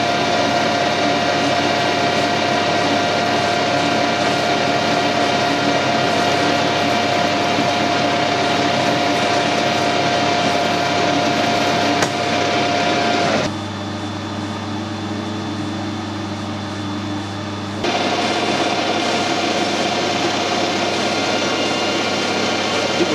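A machine turns at 1000 RPM as a carbide tool takes a fine cut in hard steel, making a steady, loud mechanical drone with a constant whine. The sound drops briefly in level partway through and then returns, with no speech.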